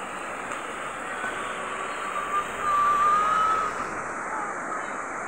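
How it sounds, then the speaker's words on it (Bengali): A truck approaches along a flooded road, its engine rising to a louder swell near the middle over a constant wash of water, with no clear talk. "ট্রাকের বডি উঁচু, একটা ট্রাক আসতেছে"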